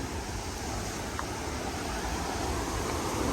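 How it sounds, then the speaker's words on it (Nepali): Heavy stream water rushes in a steady, loud, unbroken roar that fills the whole moment, with no voices over it. "पानी चाहिँ बवाल आएको छ है गाइस"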